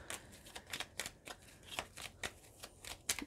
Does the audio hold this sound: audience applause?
no